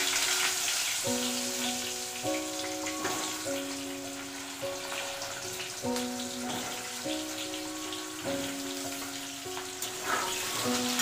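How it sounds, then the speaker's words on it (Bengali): Cut potatoes fry in hot oil with two bay leaves, a soft, continuous crackling sizzle heard under a tuneful melody of repeated notes, with no one speaking. "আলুগুলো একটু লাল লাল করে ভেজে নেবো।"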